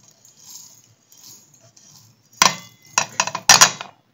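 Roasted cumin and coriander seeds crushed coarsely by hand, starting near silent and then a run of sharp, close knocks and grinding clinks in quick bursts.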